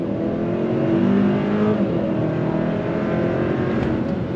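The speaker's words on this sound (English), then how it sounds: "So very smooth shifts from the DCT, and it's got plenty of get up and go." A 2024 Hyundai Santa Cruz XRT accelerates hard with its 8-speed dual-clutch transmission, the engine note droning steadily from inside the cabin with a smooth shift around midway and no talk.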